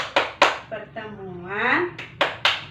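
A patterned clapping chant, the P2K2 routine, led for a group of women at a family-empowerment session: a few sharp claps in a set rhythm, broken up by a chanted spoken phrase between them.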